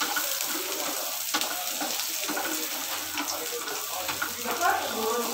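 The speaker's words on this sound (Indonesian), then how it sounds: "kita goreng-goreng dulu." Chili frying in a pan sizzles and crackles steadily throughout, a close, continuous hiss with occasional stirring bumps and no one talking over it.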